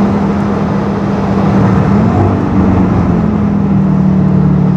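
An Audi RS3 with an ABT Stage 1 tune hums loudly and steadily at close range as it accelerates, its pitch shifting slightly as it builds under load.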